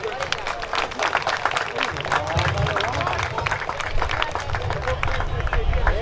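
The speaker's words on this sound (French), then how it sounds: "on l'applaudit" Audience at a CanadaFest gathering applauds with dense, sustained clapping mixed with crowd murmur and some voices, steady and fairly loud throughout.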